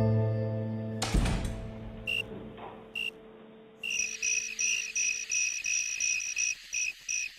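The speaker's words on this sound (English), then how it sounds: "I would sit there for, 3 hours waiting for the damn crickets to chirp" Crickets chirp in pulsed, high-pitched bursts that repeat in a steady rhythm after a sharp knock and a low hum fade out, clear and close with no voices.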